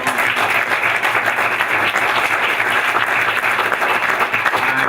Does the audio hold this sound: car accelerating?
no